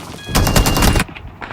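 Gunfire from the battle royale mobile game BGMI erupts in a loud, rapid burst of shots lasting under a second, then cuts off abruptly into quieter game ambience.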